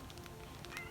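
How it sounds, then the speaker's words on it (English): A house cat meows indoors, faint and somewhat distant, with a few short repeated calls over a low background hum. "I know you can probably hear my cat."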